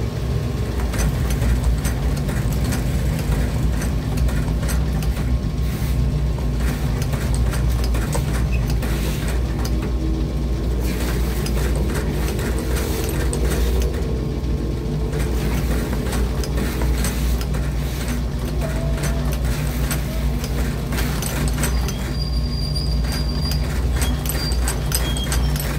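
A sewing machine stitching Jordan shoes runs in a rapid, steady mechanical chatter with a low rumble underneath, loud and continuous throughout, with no voices.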